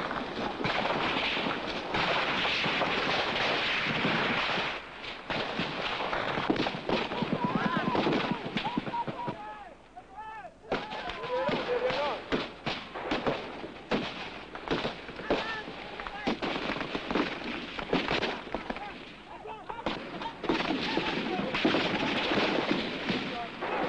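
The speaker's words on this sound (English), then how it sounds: "the rifle fire, light machine gun fire, sounds extremely close overhead" Dense rifle and light machine gun fire in combat during the Nigerian Civil War push into Ikot Ekpene, loud sharp cracks and bursts crowding close overhead almost without pause, dipping briefly before resuming just as heavily.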